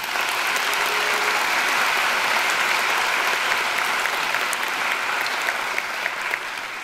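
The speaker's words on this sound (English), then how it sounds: "Please give them a round of applause." Audience applause for faculty advisors and mentors at a university engineering PhD graduation ceremony, a dense, steady wash of many hands clapping that holds evenly throughout without talk.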